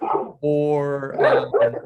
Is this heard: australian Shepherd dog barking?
yes